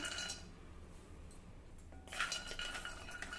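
Cashews and almonds are dry-roasted over a low flame in a kadhai and stirred with a spoon, giving quiet metallic scrapes and light clinks that grow busier toward the end.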